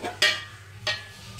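Fried squid and leeks being stir-fried and tossed in a pan for squid fried rice, two brief scraping clatters of a spatula about half a second apart against a quiet background.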